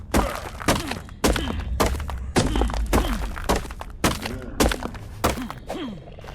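A stone pick strikes a rock over and over in the ARK survival game, about ten heavy, crunching thunks in a steady rhythm, each with a rumbling low impact, loud and close.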